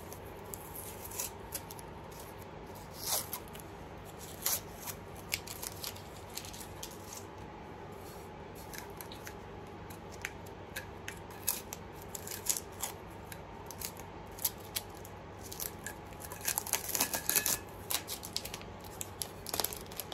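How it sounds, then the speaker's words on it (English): Sublimation wrap being peeled off a soda can tumbler, heard as steady crinkling and tearing with small crackles over a constant background hum. "I'm going to continue to unwrap my tumbler"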